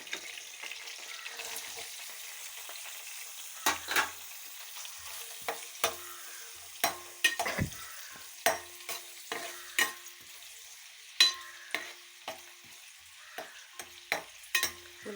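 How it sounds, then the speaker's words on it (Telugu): Chopped onion pieces frying in a pan for a South Indian fish curry, a low continuous sizzle broken by frequent sharp scrapes and knocks of a spoon stirring, close and clear with no talk. "ఉల్లిపాయ ముక్కలు కూడా బ్రౌన్ కలర్లోకి వచ్చే వరకు వేపాలి."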